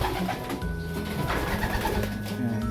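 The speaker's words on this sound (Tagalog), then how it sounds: "Ito yung bumaba dito na ibon." Racing pigeons give low, repeated cooing calls close by, layered over one another at a steady moderate volume.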